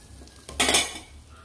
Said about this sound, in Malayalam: ഇനി ഈ ചട്ടിയിൽ തന്നെ നമുക്കിത് പൊരിച്ചെടുക്കാം